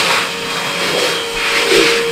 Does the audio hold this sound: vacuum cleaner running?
yes